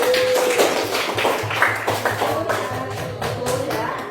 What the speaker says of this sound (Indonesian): berikan aplaus untuk Adisa